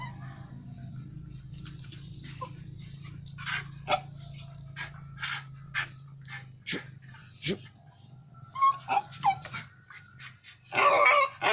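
A dog attacking a Bornean wild cat, with sharp irregular barks, yips and whimpers scattered over a low background drone, growing denser and louder toward the end.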